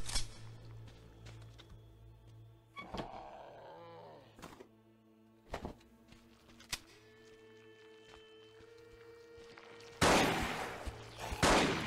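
A shotgun booms in the horror video game Holstin, with several sharp, scattered blasts among quieter game noises and a loud, noisy burst near the end.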